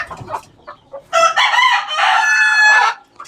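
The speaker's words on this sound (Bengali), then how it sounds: "তো এইখানে হলো কুচা মুরগিগুলো, ডিম পাড়া মুরগি" A rooster crows loudly and at length among native laying hens on a small backyard farm, with scattered clucks just before the long crow, close and clear.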